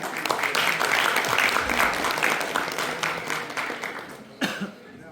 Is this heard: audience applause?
yes